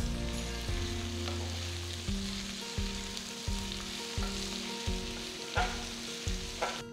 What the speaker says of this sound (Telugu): ఉల్లిపాయలు అన్ని గోల్డెన్ బ్రౌన్ రంగులోకి మారేంత వరకు వేయించాలి